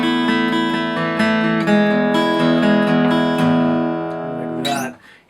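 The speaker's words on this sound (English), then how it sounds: "single-note string skipping melody that sounds like this" Descending single-note melody on acoustic guitar using string skipping and slides, in the style of a song, heard as a steady run of clear plucked notes that rings out and fades at the end.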